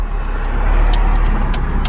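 Honda S2000 sports car being driven at low speed, its engine and road noise a steady, loud drone that continues throughout.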